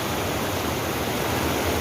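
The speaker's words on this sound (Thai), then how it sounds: "น้ำไหลลงมาประทะโกดหินต่าง ๆ ไหลลงไปเกิดเสียงดังกันมากมาย" Water from the Nong Wai dam rushes down and crashes over rocks below, a loud, steady, dense roar that fills the whole clip without any break or change.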